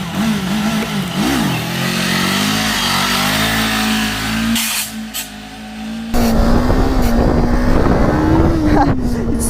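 A Kawasaki motorcycle engine revs loud and close, holding a steady drone that wavers and dips before surging again as the throttle is opened hard near the end.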